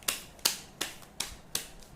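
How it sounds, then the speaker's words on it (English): Tarot cards being shuffled and handled, heard as five crisp, sharp clicks spaced at an even, unhurried rhythm, close and fairly quiet with no talking. "let me shuffle some cards"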